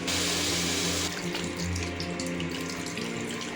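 Water poured into a pan of egg curry with tamarind, a steady close gushing splash that softens after the first second into a bubbling trickle.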